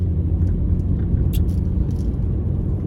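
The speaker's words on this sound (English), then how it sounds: "It's just a lot of odd traffic today." Road traffic rumbles steadily nearby, a low continuous drone of passing vehicles with a few faint higher hisses and squeaks over it.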